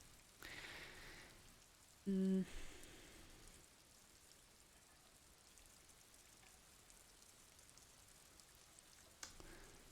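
Rain falls steadily in the video game Disco Elysium, a faint, even patter on surfaces with a brief tonal blip partway through.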